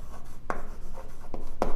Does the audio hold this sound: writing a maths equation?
yes